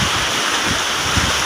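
Strong sea waves churn under heavy wind, a loud, dense wash of surf and gusting air buffeting the microphone without pause.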